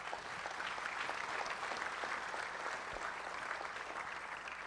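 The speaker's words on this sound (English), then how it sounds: "Give these people a big round of applause." Applause from a conference audience at the National Toshaos Council in Guyana: a steady wash of many hands clapping, moderately distant and evenly sustained with no talking over it.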